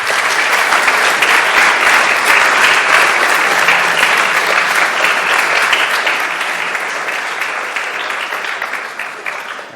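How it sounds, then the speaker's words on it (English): A large audience at a 3D environment art panel for video games applauds loudly and continuously for nearly ten seconds, a dense, sustained wash of clapping that slowly tapers toward the end. "Let's have another huge round of applause."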